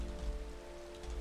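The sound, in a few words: rain falling in Minecraft video game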